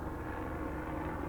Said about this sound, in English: Yeah, that's our helicopter.